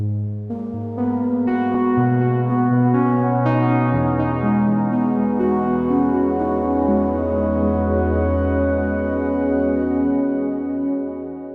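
A sustained, layered synthesizer pad with slowly shifting chords, warm and dense, playing alone at a steady, full volume.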